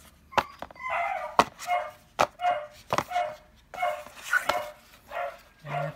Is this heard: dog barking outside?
yes